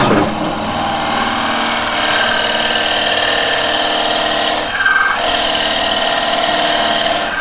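A power drill grinds steadily through wood on a woodturning lathe, boring a big, deep hole, loud and close, with a brief drop in pitch midway before it resumes.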